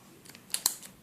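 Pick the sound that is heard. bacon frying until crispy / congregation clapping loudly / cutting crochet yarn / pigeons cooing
cutting crochet yarn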